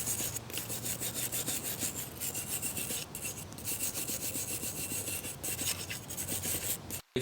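Wire brush scrubbing rust off an old two-stroke engine: continuous close, raspy rubbing strokes with a steady scraping texture, running throughout without speech.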